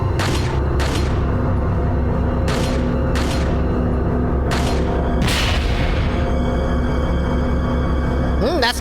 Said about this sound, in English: Oh wow, dynamite!